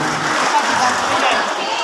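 Applause and cheering from the San Dionisio audience at a gym gathering, a dense, steady wash of clapping and crowd noise throughout the short moment.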